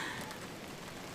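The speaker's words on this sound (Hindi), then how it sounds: "तो मौसम बादल बने हुए हैं, तो हल्की हल्की बूंदाबांदी शुरू हो गई है।" Light drizzle falling on a rooftop under cloudy skies, a soft, steady hiss of scattered drops pattering close by at low level throughout, with no voices.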